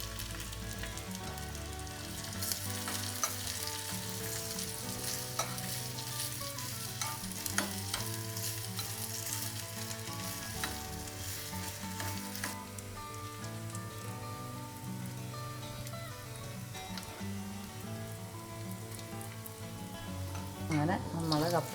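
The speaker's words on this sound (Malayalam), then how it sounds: "അങ്ങനെ നമ്മൾ കപ്പയുടെ മേലെ കടുക് താളിച്ച്." Mustard seeds crackle and sizzle continuously in hot oil as the tempering is poured over boiled tapioca with coconut, a dense spattering that turns louder and busier toward the end.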